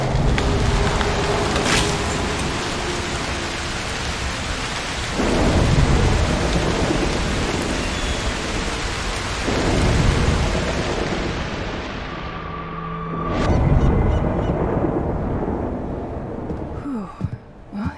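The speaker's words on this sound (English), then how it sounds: "A storm could help." A loud, close thunderstorm in the video game Broken Pieces, steady heavy rain with repeated rolling thunder swells, fading out near the end into a brief quieter stretch, with no talk.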